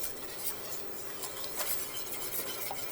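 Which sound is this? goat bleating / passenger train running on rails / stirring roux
stirring roux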